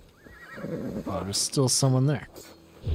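A horse whinnies in Assassin's Creed Valhalla, a loud, rising and falling neigh lasting about a second, set among spoken lines of game dialogue.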